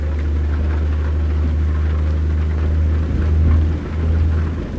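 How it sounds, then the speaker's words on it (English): Steady rain with a low rumble of thunder during a summer storm out west in American Truck Simulator, heard from a truck cab over a constant engine drone, the rumble swelling briefly near the end. "Lightning and thunder."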